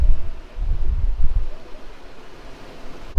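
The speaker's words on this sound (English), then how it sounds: "It's getting a little bit gusty through here as the wind's coming slightly down off the hills to Bream Head." Gusty wind buffets the microphone aboard a catamaran sailing near Bream Head, coming in heavy low rumbling bursts for the first second and a half, then easing to a softer steady rush with no talking.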